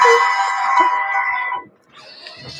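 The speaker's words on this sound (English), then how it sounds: "They still use the same T jingle." An old T-Mobile phone startup jingle plays a short, bright electronic melody of a few clear tones, then fades into faint background noise.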